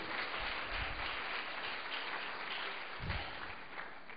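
A congregation at a church healing service clapping loudly, a dense, steady wash of many hands that stays sustained and close throughout.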